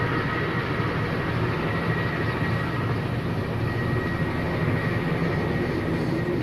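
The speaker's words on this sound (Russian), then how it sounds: "Вот, гляньте, набрал он воду. И сейчас взлетает." A firefighting helicopter lifts off after scooping water during a forest fire near Marmaris, Turkey, its engine and rotor making a steady loud roar with no break, heard from some distance.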